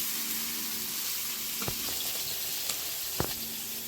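Whole spices and bay leaf sizzle in hot oil in a pan, a steady close frying hiss with a few sharp crackles and pops.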